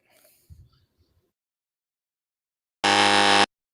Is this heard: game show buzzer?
yes